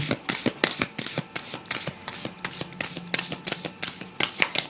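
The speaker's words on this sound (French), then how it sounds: "J'espère que ça fait pas trop de bruit dans le micro quand je remue les cartes aussi." Tarot cards shuffled by hand, a loud, close run of rapid riffling bursts in a quick uneven rhythm, repeating over and over with no talk.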